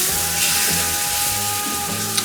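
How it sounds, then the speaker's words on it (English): A roux for Louisiana seafood gumbo sizzles in a pot as a close, continuous hiss, with a low bubbling underneath and a sharp pop just before it ends. "You wanna hear all that sizzling and popping and cracking and all that good stuff."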